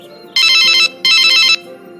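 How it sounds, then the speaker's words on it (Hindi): A mobile phone ringtone rings loud and close in two bright, warbling bursts, each about half a second long, separated by a short gap, over a quiet background hum. "लगता है किसी का फोन आ रहा है।"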